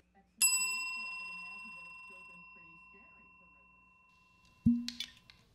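A small bell struck once, ringing out with a clear, bright tone that decays slowly over several seconds, followed by a short clunk and rattle near the end; a voice speaks faintly beneath.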